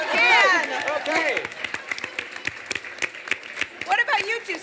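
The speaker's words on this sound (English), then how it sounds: "Come on, can I have some applause yes," Audience applause at a dinner-party talk show, a dense clatter of many hands that swells and carries on for several seconds while voices call out over it near the start and end.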